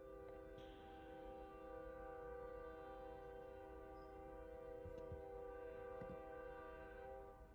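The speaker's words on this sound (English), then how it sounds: "You hear the train?" A train rumbles past with a steady, sustained horn-like drone layered over low mechanical roar, fairly distant and continuous throughout.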